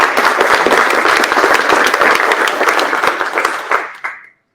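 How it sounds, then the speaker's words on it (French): Loud, dense applause from an indoor audience at a business conference talk, steady for several seconds before tapering off into silence. "on peut les applaudir"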